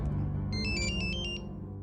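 A phone ringtone plays a short, bright electronic melody of repeated tones over a steady low background, close and clear.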